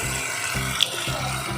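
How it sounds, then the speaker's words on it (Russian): Water streams from the spout of a Gemma Gemmove water ionizer fitted at a kitchen tap: a close, steady rushing flow with faint rhythmic rattling pulses. "А повернули вот налево, и у нас струя воды."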